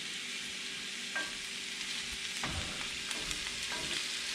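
Salted vegetables fry in a pan with a constant soft sizzle, while a utensil scrapes and stirs through them in several short, scattered strokes; no one speaks.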